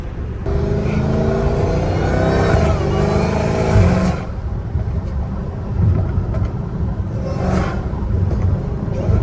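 A supercharged Dodge Charger Hellcat Redeye engine revs loudly and close, a dense roar with rising whine in the first few seconds, then settles into a steady, rumbling idle.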